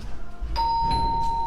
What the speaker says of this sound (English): This is the doorbell right here.